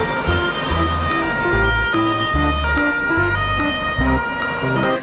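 A toy fire truck's electronic siren plays loud and close, a steady looping pattern of stepped, warbling tones that continues without a break.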